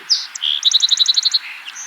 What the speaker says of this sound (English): Okay, there's the song sparrow.